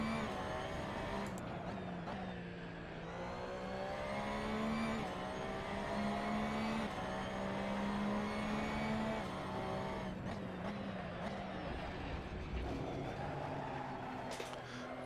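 A race car in the Assetto Corsa racing game at Brands Hatch holds a continuous engine drone that rises and falls as the car loses its rear and spins out, with someone commentating over it.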